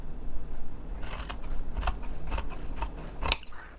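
Scissors trimming fabric seam allowance on a bag lining pocket, a series of crisp close snips in an uneven rhythm, roughly six cuts, the last one sharpest, with no talking.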